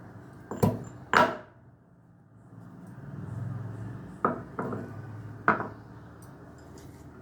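Several dull, heavy thuds of a stone pestle pounding ginger in a stone mortar, a pair early on and a cluster later, with quiet pauses between the blows.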